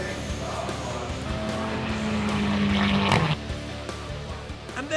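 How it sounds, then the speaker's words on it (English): A Mazda MX-5 GT race car crossing the finish line at a Britcar endurance race, its engine note rising and sweeping past at a distance before fading, with another car and track ambience around it. "Mark brings the Donington Mazda MX-5 over the finishing line"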